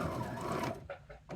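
A sewing machine stitching a drawstring bag hums steadily for most of the moment, then breaks into a few short bursts before stopping, fairly close and with no voices.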